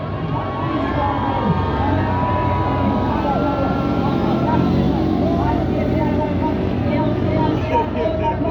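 A loud, continuous blend of engines and a cheering crowd as a formation of seven army motorcycles passes in an Army Day parade in Jaipur, with commentary over a public address system throughout.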